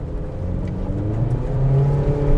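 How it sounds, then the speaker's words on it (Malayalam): A Honda Amaze with a CVT and paddle shifters roars as its engine revs climb during a downshift, a steady, close, loud drone that swells toward the end with no talking. "ഡൗൺ ഷിഫ്റ്റ് ചെയ്യുന്ന സമയത്തൊരു എൻജിൻ റോറിങ് സൗണ്ട് നമുക്ക് കിട്ടും"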